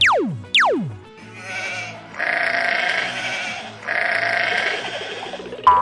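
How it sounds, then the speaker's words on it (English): Sheep held in a barn bleat up close, loud and drawn out. Two descending cries come first, followed by two long wavering bleats and a short call at the end. "Wow! The sheep is in the barn."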